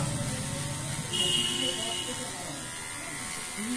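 Electric hair trimmer cutting hair during a one-side haircut at home, a continuous buzzing hum that swells briefly and then settles, steady and fairly close with a faint background hiss.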